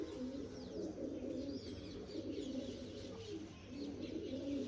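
Several pigeons coo continuously in a low, throaty murmur nearby, with faint scattered chirps above the steady cooing.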